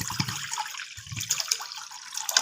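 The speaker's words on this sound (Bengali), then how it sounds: "কড়াতে আমি কিছুটা জল দেবো" Water pours and splashes into a karahi pan set on a gas stove, a close, continuous liquid gush with bubbling and trickling.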